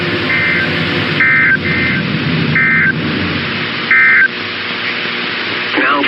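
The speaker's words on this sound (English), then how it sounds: "this has only been a test of the National Weather Service's radio alarm tone." National Weather Service weather radio alarm tone test, a loud steady electronic buzzing tone with repeated short beeping bursts recurring through the clip.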